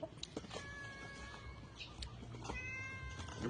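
A cat meows repeatedly for food, several short tonal cries close by in a home kitchen where a meal is being served, with a little background clatter between the calls.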